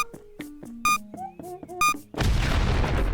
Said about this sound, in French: Mais c'est une bombe. Il a une pomme bombe.